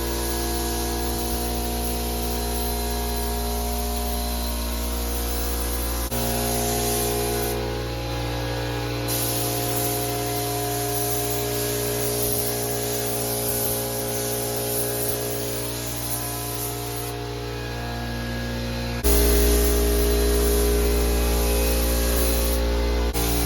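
Spray gun laying base coat on a car panel produces a long, steady hiss over a low mechanical hum, shifting in level a few times with no voices.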